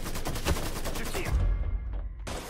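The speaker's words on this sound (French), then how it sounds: "Je tire." Gunfire from a shootout in Mafia 3: a rapid string of loud close shots for over a second, then a sharp final crack after a brief lull.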